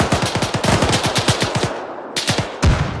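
Rapid bursts of automatic gunfire in an Arma 3 firefight on a ridgeline, loud, close and sustained, a stuttering volley that breaks off briefly and then resumes with a few more shots.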